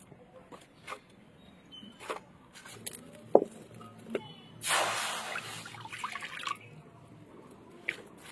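Chopped young pumpkin leaves being rinsed in water in a home kitchen: scattered soft drips and clinks, then a short, bright splashing pour, and quiet drips again.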